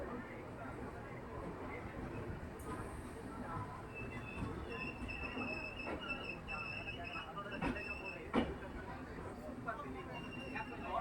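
Inside a Mayiladuthurai–Mysuru Express passenger train on the move, a steady rumble of rolling wheels and carriage noise runs throughout, with a few sharp metallic clanks and faint squeals and a murmur of background voices.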